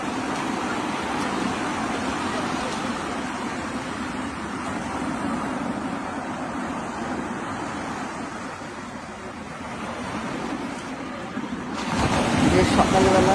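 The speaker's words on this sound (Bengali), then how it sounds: "শুধু সমুদ্রের গর্জন ছাড়া এখানে আর কিছু শুনতে পাবে না। এই যে ঢেউগুলো আছড়ে পড়ছে," Sea waves crash continuously onto the open shore at Shankarpur beach on a morning, a dense, steady roar close by that swells louder near the end.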